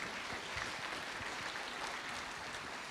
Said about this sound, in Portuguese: Você pode dar uma salva de palmas a Jesus pela vida do Carlinhos